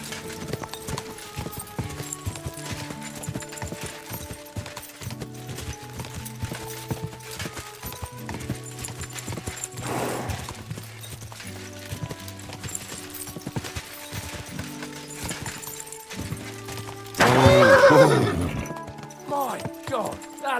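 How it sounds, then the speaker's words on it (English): Horse hooves clip-clop steadily in Kingdom Come: Deliverance II over a music bed. Near the end comes a loud, brief burst that may be a neigh. "That looks like a bloody expensive horse"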